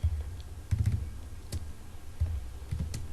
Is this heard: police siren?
no